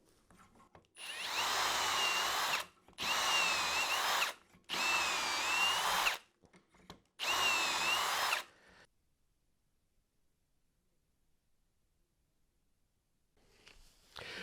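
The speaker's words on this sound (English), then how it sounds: "I'm just going to go ahead now and do all of these holes" A power drill bores dowel holes in wood for an accent table, four sustained whining bursts each lasting a second or two with brief pauses between, then quiet, with a faint start of another sound at the very end.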